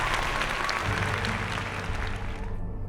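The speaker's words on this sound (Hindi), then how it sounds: "जोरदार तालियां" Applause from the audience at a Hindi Bible quiz competition, steady and continuous for the whole stretch, with a dense wash of clapping over a low hum from the hall.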